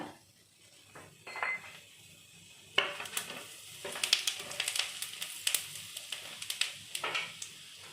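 Cumin seeds frying in melted butter in a kadai, a steady sizzle with scattered clinks and scrapes of a utensil against the pan, growing busier after a sharp clatter partway through.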